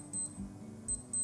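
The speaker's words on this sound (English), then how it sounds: "until you hear the beeping sound like this one." Three short bursts of high electronic beeping from a Casio W-201 digital watch alarm, evenly spaced, close and fairly quiet, over a faint low background hum.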